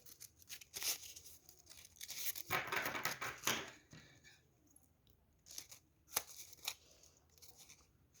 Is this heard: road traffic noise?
no